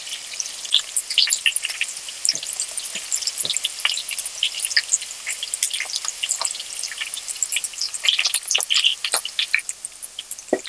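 Potato pieces frying in a pan of oil for a restaurant-style chicken curry, giving a steady, close crackling sizzle with scattered sharp pops and spits that runs alone without any talk.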